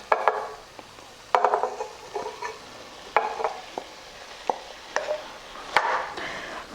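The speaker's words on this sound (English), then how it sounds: "Now let's add the potatoes." Potatoes go into a pan for Punjabi-style aloo matar curry, with a series of close clattering knocks and scrapes from a spoon against the pan over a light sizzle.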